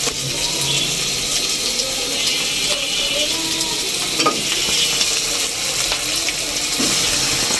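Chicken pieces sizzle loudly in a pan of fried onion spice paste, a dense continuous hiss with scattered pops and a few faint scraping clinks.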